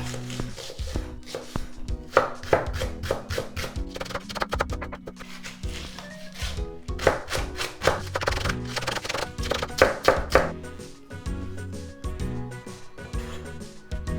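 A knife chops scallions into small pieces on a cutting board, quick rhythmic taps in irregular bursts close by, over soft background music.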